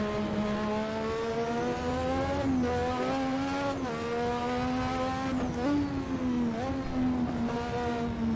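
A 1986 Formula One race car engine at Brands Hatch in Assetto Corsa, a loud, sustained high-pitched scream that dips and climbs through repeated gear shifts, close and constant with no talk.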